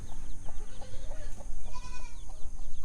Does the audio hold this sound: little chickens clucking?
yes